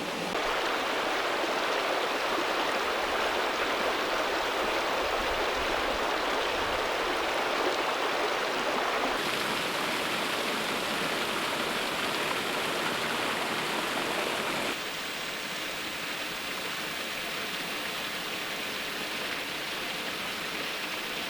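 A steady, loud rush of falling water roars without pause, broad and close, with no voices.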